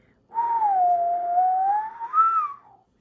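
A single long wavering whistle imitating wind, rising and falling smoothly for about two and a half seconds, clear and alone with no other sounds.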